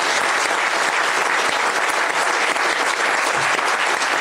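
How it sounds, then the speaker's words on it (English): A conference audience at the SheDecides +5 gathering gives a warm, sustained round of applause, dense and even clapping from many hands, loud and continuous with no break. "please give her a very warm round of applause"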